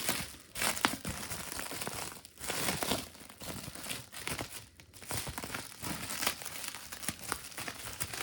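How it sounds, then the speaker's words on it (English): Plastic packaging crinkling and crumpling as a motorcycle GPS mount is unwrapped: close, continuous rustling with sharp crackles and brief tearing bursts, fairly quiet and without talk. "Unwrapping plastic live on YouTube at 4K 60 frames per second."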